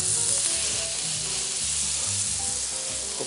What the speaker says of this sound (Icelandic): En nú brúna ég þetta á pönnu.